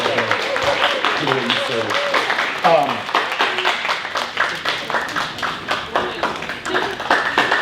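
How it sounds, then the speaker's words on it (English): A church congregation claps and applauds for a returning Taiwan mission team, a steady patter of many hands with a voice speaking over it near the start. "The church, we can give them a round of applause for what they did."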